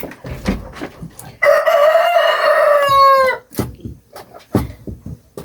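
A rooster on a chicken farm crows once, loud and close, in a drawn-out cock-a-doodle-doo, framed by short scattered clucks from the chickens before and after.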